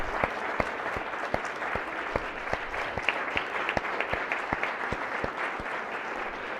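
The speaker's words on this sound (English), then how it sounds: "If I could ask the body to join in a round of applause for this" Applause fills the Maryland Senate chamber as the members clap steadily for several seconds, the claps sounding fairly faint and spaced out rather than a dense roar.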